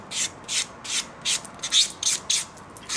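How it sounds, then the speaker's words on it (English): A nail buffer rubs over a sealed dip powder nail coat in about eight quick, rhythmic scratchy strokes, close and clear with no talking. "You are buffing that sealant."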